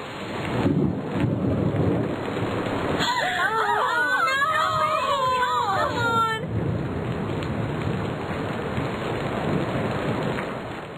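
Rain pours steadily on a stormy day in the My Scene Miami Getaway game while thunder rumbles loudly, and a meowing cat-like tone rises briefly midway.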